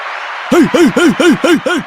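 A clapping sound effect from a host's soundboard on a Cowboys and Jets football show: six quick, evenly spaced bursts, loud and close, after a brief quiet moment.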